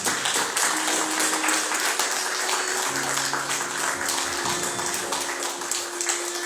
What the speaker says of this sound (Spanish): Denle un aplauso fuerte al Señor con todo su corazón